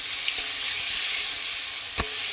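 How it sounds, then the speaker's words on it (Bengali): Paneer fries in a little oil, giving a steady, close hiss of sizzling that is broken by a couple of faint clicks. "আগে পনিরটা ভাজতে হবে।"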